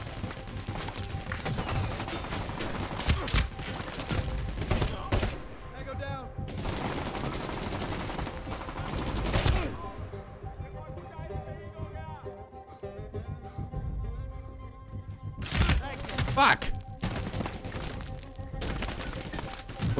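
Gunfire from the Medal of Honor: Warfighter video game, with loud bursts of rapid automatic shots and occasional booms. The bursts come in clusters, and someone talks over the fighting with pauses in between.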